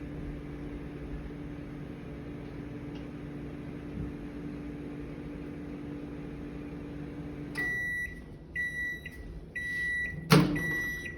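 A microwave oven hums steadily while melting coconut oil, then stops and beeps several times in a short clear pattern, followed by a door click and handling noises.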